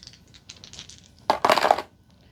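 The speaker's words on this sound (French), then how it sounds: "Et nous allons" Dice thrown and rattling onto a surface during a tarot reading, light scattered clicks followed by a louder tumbling clatter lasting about half a second, close and without talk.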